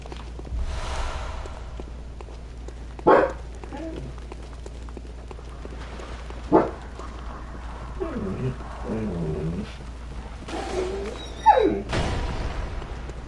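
A dog whines and whimpers in a video game, high thin cries rising in a few short bursts over a steady game soundscape with faint footsteps.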